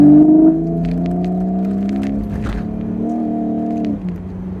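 BMW E85 Z4 engine running in sport mode, a loud, close, steady droning tone that holds and slightly shifts in pitch as it revs, with no one talking.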